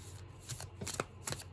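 Dense flutter of a tarot deck being shuffled by hand, several quick riffling bursts close up with small taps between them and no voices.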